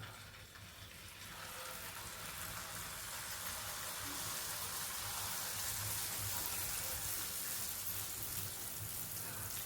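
Batter for a Tamil ladder-shaped sweet poured into hot oil, building into a dense, steady hiss of frying that holds evenly at low level throughout.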